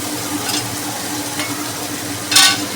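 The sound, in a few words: mutton paste frying and stirred with spices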